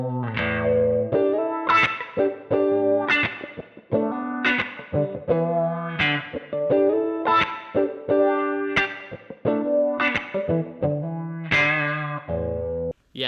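Electric guitar played through an Xotic wah pedal, bright sweeping notes and chords in a rhythmic riff, close and solo, with effects shaping each phrase.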